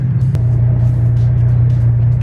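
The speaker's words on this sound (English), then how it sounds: "This is one of the loudest cars ever." A BMW M3 engine rumbles loud and steady up close at a car meet, a deep sustained roar that holds through the whole moment.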